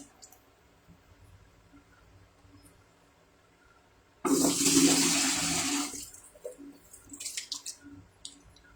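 Water runs from a tap during face washing, a sudden close gush lasting about two seconds, followed by softer splashes and drips.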